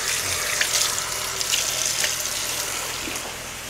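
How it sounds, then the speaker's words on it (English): Tap water runs steadily into a sink while hands are rinsed with soap, a close, continuous splashing hiss with slight variations as the hands move under the flow. "I'm gonna give ourselves a quick rinse with soap and water."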